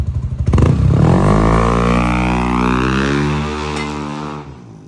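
A tuned motorcycle with a G-Racing exhaust pipe, alloy torque drive, full CVT set and speed tuner sputters, then swells into one loud, sustained rev that climbs and slowly fades.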